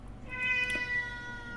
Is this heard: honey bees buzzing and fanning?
no